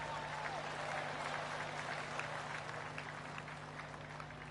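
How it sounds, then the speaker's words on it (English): Golf gallery applause in the PGA Tour 2K25 video game, a steady patter of distant clapping around the course, fairly faint and continuous, with a commentator's voice in the background. "I can hear the golf claps around the course."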